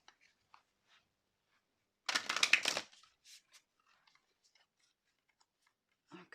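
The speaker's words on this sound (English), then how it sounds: "So I would really like to draw 2 affirmation cards for you." Tarot affirmation cards shuffled by hand in one short, crisp riffling burst lasting under a second, with a few light taps and card handling before and after in a quiet room.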